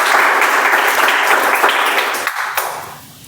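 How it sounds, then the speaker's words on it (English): An audience claps for the Toastmaster at a Toastmasters club meeting, a loud, dense round of applause that holds steady for a few seconds and then fades out. "So let's give a good round of applause to Toastmaster."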